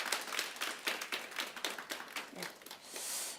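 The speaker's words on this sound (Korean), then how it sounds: "또 힘찬 박수 한번 또 부탁드리겠습니다" Applause from a church congregation at a children's and elementary department dedication service, a moderately loud patter of clapping hands running steadily with a slight swell near the end.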